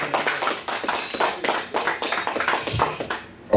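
Audience clapping at a South Philly rap battle, a loose burst of hand claps that rises and falls unevenly across the moment, fairly close, with no talking over it.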